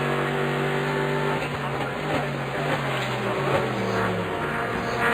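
Race cars at the 12 Hours of Sebring, braking into turn 10: a continuous loud engine roar with shifting tones as cars downshift and pass, filling the whole stretch with no talk.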